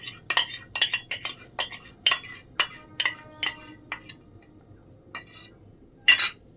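A utensil stirs chicken soup with egg in a pot, giving repeated metallic clinks and scrapes against the pot in an uneven rhythm, with a faint background hiss between strokes.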